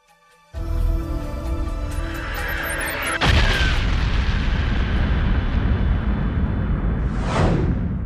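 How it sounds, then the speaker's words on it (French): A massive rumbling explosion evoking the Big Bang, with a deep boom at the start, a second heavier blast swelling to a loud roar, and a rising whoosh near the end, with no voices. "Cette explosion émana d'un seul point il y a quelques 15 milliards d'années, à partir du néant."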